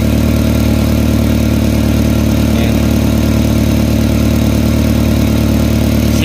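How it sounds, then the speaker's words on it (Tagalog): Kia Picanto engine idling loud and close with a leaking exhaust, a steady low rumble and hiss holding unchanged throughout, with one brief spoken word. "Singaw talaga yung tambutso niya eh, no?"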